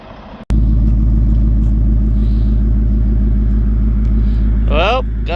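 A seven-car hauler truck idles close by after pulling up, its engine a loud, steady low rumble that starts after a sharp click and holds constant, with a brief higher whine near the end.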